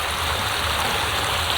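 A creek in a wooded conservation area rushes and burbles over its bed in a dense, steady wash of water noise. It is close and continuous, with no voices.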